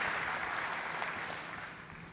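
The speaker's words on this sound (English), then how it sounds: "Round of applause for Andrew, please." An audience at an airline industry opening plenary applauds a presenter, a steady dense wash of clapping at moderate level that slowly fades over two seconds.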